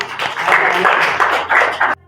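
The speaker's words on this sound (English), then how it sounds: "Have a hand of clapping for Kashif." An audience at an evangelical fellowship talk claps in a short, loud burst of hands that swells, dips briefly, surges again, then stops abruptly.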